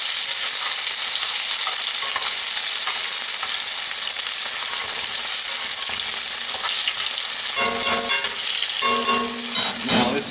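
Steak sears in garlic-flavoured oil with a loud, dense, unbroken sizzle, close up, the spitting and crackle growing busier toward the end.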